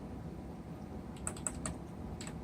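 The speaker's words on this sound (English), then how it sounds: "I'm using the up and down key on my keyboard" Computer keyboard keys, the up, down and enter keys, are tapped in a few quick, quiet clicks in a short cluster near the middle and once more near the end, over faint room hiss.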